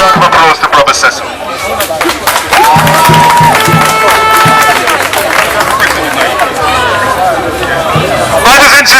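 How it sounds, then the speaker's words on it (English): A crowd at an outdoor rally outside the U.S. Embassy in London applauds and cheers loudly, mixed with babble and shouting voices, sustained and near throughout. "A round of applause to Brother Cecil."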